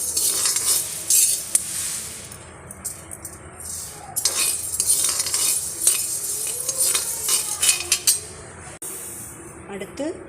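A metal ladle scrapes and clinks through horse gram dry roasting in a pan, with continuous rattling stirs and a faint sizzle close by. A voice talks intermittently.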